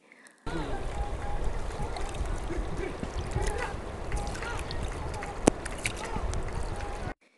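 River water flows in a steady rushing stream, broadband and constant, with faint bird calls and brief background sounds over it.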